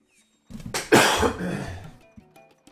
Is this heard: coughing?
yes